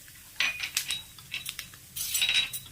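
Spoon stirring a tempering of white sesame seeds, urad dal and asafoetida in a pan with the flame off, giving light metallic clinks and scrapes in short bursts, close and fairly soft.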